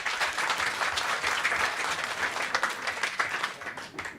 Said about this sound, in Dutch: Dames en heren, een heel hard applaus voor Ismaël Ricci.